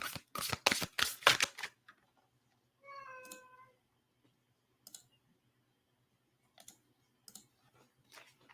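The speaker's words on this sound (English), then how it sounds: "now my cat wants out" A house cat gives one clear, drawn-out meow close by after a burst of quick clicking and shuffling, with a few faint taps scattered through the otherwise quiet room.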